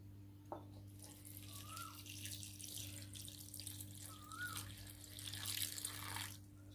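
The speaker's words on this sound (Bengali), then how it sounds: "কিছু পানি দিলাম" Water is poured into a bowl of scooped ripe wood apple pulp to make sharbat, giving a soft, steady splashing trickle that runs for several seconds, quiet and close, with no talking.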